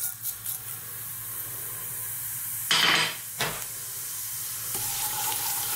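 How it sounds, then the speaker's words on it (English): Cumin seeds hiss and sizzle as they drop into hot groundnut oil, a steady frying crackle with a sharp burst of spitting partway through, then settling back to a gentle sizzle. "as our oil heats, we're going to drop in our cumin seeds"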